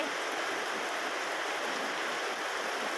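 Heavy rain pours steadily in a dense, even hiss with no breaks, close and loud, with no voices over it.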